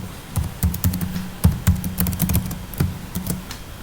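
Java code being entered on a computer keyboard: quick, irregular clacks and taps in close succession with brief pauses. The keystrokes are close and clear, with no talking.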